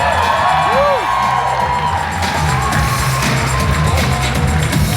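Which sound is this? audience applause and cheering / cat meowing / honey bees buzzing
audience applause and cheering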